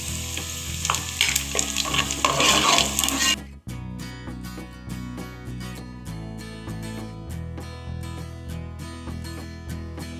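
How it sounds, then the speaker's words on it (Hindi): Onions fry with garam masala and cumin in a pan, giving a loud, dense sizzle for about three seconds before it cuts off and music with a steady beat takes over. "प्याज को हम फ्राई कर लेंगे।"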